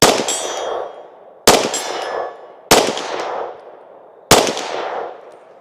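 Four loud shots from a Glock 31 chambered in 357 SIG, each followed by a ringing clang as the round strikes a steel target, spaced about a second or more apart, each tail fading before the next.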